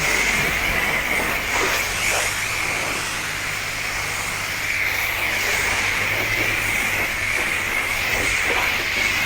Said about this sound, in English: See, there's soap coming out while I'm rinsing.